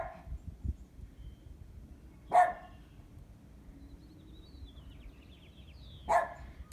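Two short, sharp dog barks, spaced a few seconds apart, stand out over a low indoor background hum. They are moderately close and carry no talk over them.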